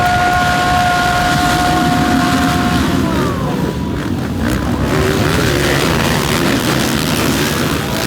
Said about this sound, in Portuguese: Sobe o giro dos motores.